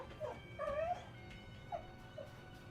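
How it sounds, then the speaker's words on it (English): A dog whimpers in several high, thin whines, first in a longer run, then in two short, fainter whimpers, heard fairly close over a quiet background. "World's ending because Doggy can't get a toy"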